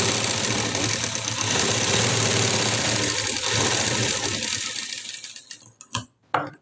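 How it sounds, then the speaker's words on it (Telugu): A sewing machine runs steadily while stitching around the collar of a blouse, a dense continuous mechanical whir that holds for about five seconds, then stutters into a few short bursts and stops. "ఇలా జాగ్రత్తగా చుట్టూరా ఒక స్టిచ్ అయితే వేసుకుంటూ రావాలి."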